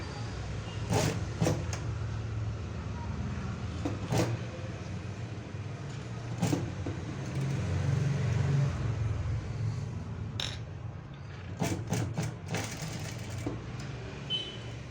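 A sewing machine stitches a boat neck blouse back neck in short bursts of close, faint mechanical whirring, with pauses between runs.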